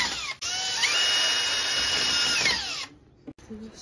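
A power drill bores 6 mm holes into the corner of a ceramic tile while a range hood is being installed. The motor whines steadily for about two and a half seconds, then winds down, followed by a few faint clicks.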